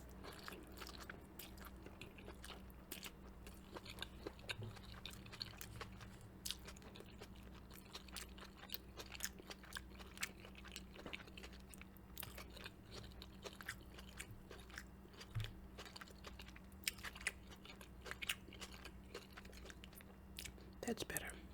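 Close, quiet chewing and biting on chicken pad Thai, soft wet crunches and mouth sounds running steadily with no speech, over a constant low hum.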